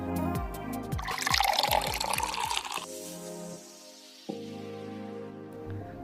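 Water pours into a glass up close, with a bubbling, rising fill for a few seconds, then a pause and a softer trickle, alone without talk.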